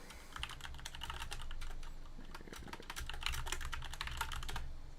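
Rapid computer keyboard typing, a dense patter of close key clicks in irregular bursts over a faint low background hum, with no talk.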